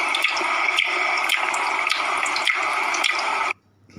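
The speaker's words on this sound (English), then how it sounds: "So children can hear exactly what the goldfish sounds like." A children's learning device plays a goldfish sound effect, a steady watery bubbling and trickling with regular pulses, close and fairly loud, ending abruptly into near silence.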